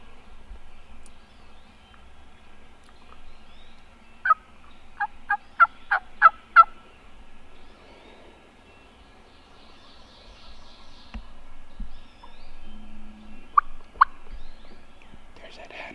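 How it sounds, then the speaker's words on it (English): A wild turkey gobbles from its roost tree in the woods, a quick run of several short calls at moderate distance, then one or two more later amid quiet outdoor ambience. "It's time for him to get out of that tree."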